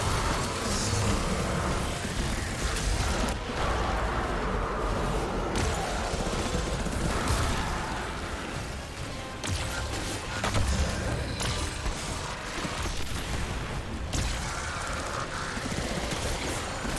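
Rapid automatic gunfire from Ager's Scepter in Destiny, a dense, continuous burst of game weapon fire with mechanical clatter running almost unbroken, loud and close throughout.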